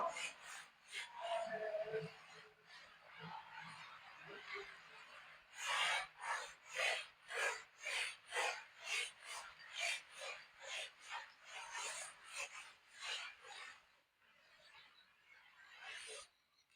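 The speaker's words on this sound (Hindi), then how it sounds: "तो इसको अब मैं क्या करता हूं, रब करता हूं, मिटाता हूं।" Eraser rubbing out writing on paper, faint scratchy strokes at first, then a long run of quick regular back-and-forth rasps up close, tapering off near the end.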